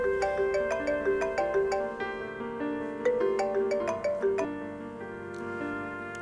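A telephone ringtone plays during a call, a bright repeating melodic phrase looping steadily at moderate volume with no voices over it.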